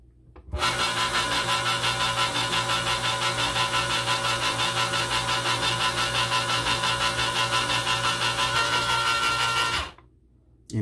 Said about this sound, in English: You notice there on the end how you kind of can hear that difference in the motor sound.